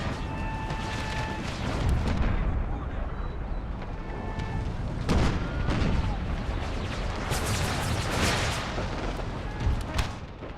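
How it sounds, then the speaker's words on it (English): Artillery pounds a hillside in a Gettysburg battle video game, with heavy booms and rumbling blasts rolling one after another over a dense, continuous roar of battle noise. "we're getting absolutely bombarded and shredded by this army's artillery out here in the open"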